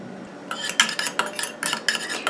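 A homemade hair elixir being stirred briskly in a small container, with rapid clicking taps of a utensil against the sides in quick irregular bursts, close and clear.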